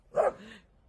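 A single sharp bark from a pet dog in a home, close and fairly loud, followed by a brief trailing whine or yelp, with no speech over it.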